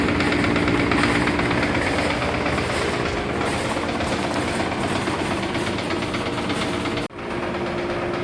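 A rebuilt Clipper office tester machine running smoothly, a loud, steady mechanical rumble with fast rattling and a continuous airflow whoosh, close by, with a brief dip near the end and no voices.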